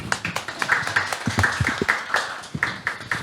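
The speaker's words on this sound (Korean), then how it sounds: "다시 한번 박수 부탁드리겠습니다" Audience claps at a university recruitment information session, a moderate round of distinct, slightly uneven hand claps with crisp individual strikes, steady for a few seconds without talking.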